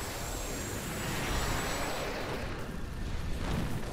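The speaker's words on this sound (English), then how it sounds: "All of the happy explosions." Dense, roaring bursts of explosions from the action game Diablo 3: Reaper of Souls fill the whole stretch, loud and continuous with a rumbling low end and no pause between blasts.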